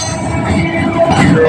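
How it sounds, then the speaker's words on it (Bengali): A Majerhat local train running past Kumortuli Ghat, heard close and loud as a continuous heavy rumble of rolling wheels, with a faint squeal near the end. "মাঝেরহাটি ট্রেন যাচ্ছে এখন।"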